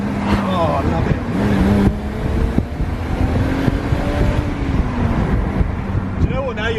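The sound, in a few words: raspy BMW car engine while driving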